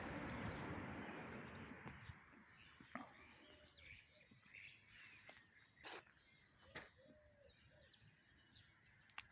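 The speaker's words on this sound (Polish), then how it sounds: "znowu ptaszki ćwierkają, muchy latają, wszystko jakoś budzi się do życia" Small birds chirp and tweet faintly in the open air beside a church in spring. The calls are brief and scattered over a soft, steady background hush, with an occasional cooing call. No one speaks.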